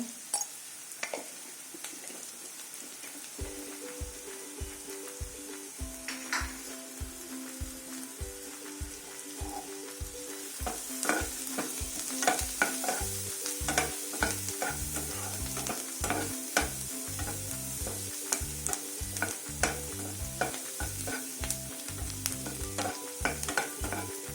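Onions frying with turmeric in a pan, giving a steady sizzle and repeated stirring scrapes, with quiet background music running throughout, the frying close and continuous.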